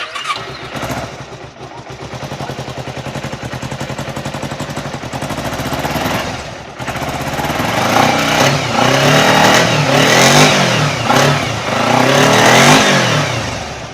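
Kawasaki Ninja 250 carbureted two-cylinder 250 cc motorcycle engine, idling with a steady burble and then revving up into louder, rising throttle blips in the second half, close and alone.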